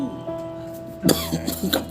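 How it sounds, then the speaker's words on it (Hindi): A man coughs several times in a short, harsh burst near the microphone. "खांसी बहुत आ रहा।"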